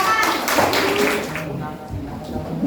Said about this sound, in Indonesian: kita beri tepuk tangan untuk kelompok 8